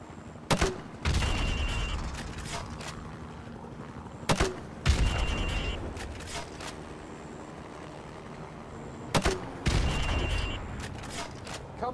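Grenade launcher rounds fired into windows in the video game Call of Duty Modern Warfare Remastered: three sharp launches, each followed by a loud blast and a rumbling burst of fire, with talking between them.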